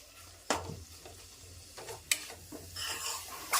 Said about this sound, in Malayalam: നന്നായിട്ട് തന്നെ ഒന്ന് അതിൻ്റെ പച്ച മാറണ വരെ നമ്മത് ഇളക്കി കൊടുക്കുക